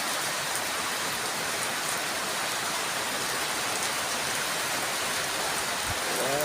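Heavy rain pours down in a dense, steady hiss that fills the whole stretch at an even level, with no voices over it.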